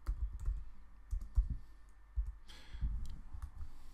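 Someone types a short command on a computer keyboard, a quiet run of close, uneven key clicks with small pauses between strokes, with no voices.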